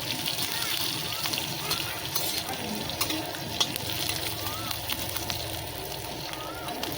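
Sliced onion frying in oil in a pan over a village wood-fired stove, a steady close sizzle with stirring scrapes while someone talks over it.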